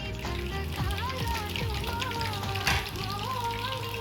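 Beef kofta curry gravy simmering in a pan, bubbling and sizzling continuously and fairly close, with faint background voices and clinks mixed in.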